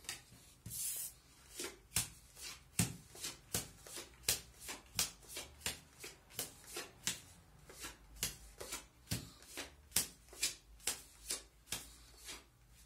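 A deck of playing cards is shuffled by hand repeatedly, a regular series of crisp riffling slaps about two per second, close and fairly quiet, with no voices.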